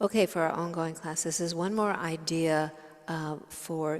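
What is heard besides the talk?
No everyday noise stands out behind the speech.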